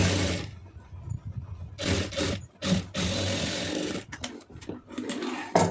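A sewing machine stitches two readymade net sleeves together, its motor whirring in several bursts of a second or so with short pauses between them, close up and fairly loud, with no voices.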